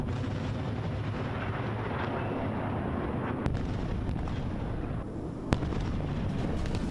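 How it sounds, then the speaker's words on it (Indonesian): Rocket fire and missile interceptions over southern Gaza rumble continuously as a broad, distant roar, with two sharper cracks standing out partway through. "Sistem rudal Israel terlihat mencegat rentetan tembakan roket di kota Jenin di wilayah selatan Gaza pada hari Jumat."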